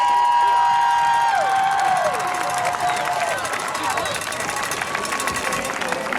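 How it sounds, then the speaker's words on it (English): Sustained applause and cheering from a large crowd at a 2012 high school homecoming court announcement, steady and loud throughout with voices mixed into the roar. "let's give a big round of applause for your 2012 Shelton Homecoming Court."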